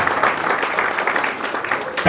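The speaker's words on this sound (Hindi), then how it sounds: "जोरदार करतल ध्वनि से उनका स्वागत करते हैं" Applause from an audience welcoming honorees at a ceremony for social workers, a steady dense patter heard briefly with a voice talking over it.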